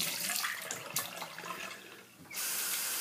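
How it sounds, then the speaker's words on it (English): Hot water running from a tap over a stainless shaving brush, a close, bright splashing rush that shifts as the brush moves through the stream, then settles into steady flow. "just rinse it with a little hot water"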